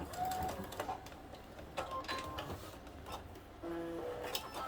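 A home sewing machine back stitches fabric along a zipper for a bag. Short, quiet mechanical bursts of ticking and whirring stop and start, with a pause between runs.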